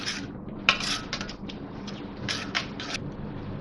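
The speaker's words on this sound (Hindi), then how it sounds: "ये इस तरह से चमचा चलाते हुए हल्की हल्की आंच में मैं इसको भूनती रहूँगी" A metal spoon scrapes and clinks against a pan while semolina (suji) roasts over low heat, giving scattered light taps and scrapes, close and fairly quiet, with a low background hum.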